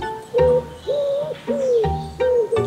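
A bird coos in repeated soft, rising phrases, three or four calls in a row, close and clear.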